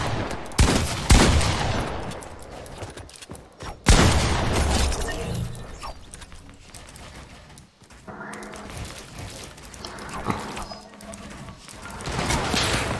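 Pump shotgun fire in a video game, loud sharp blasts with crashing impacts: bursts near the start and at about four seconds, then quieter shuffling, rattles and further bangs.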